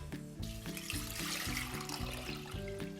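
Water pours steadily into a cooking pot holding lime leaves and pandan leaves, a continuous splashing stream for about three seconds with no talk over it.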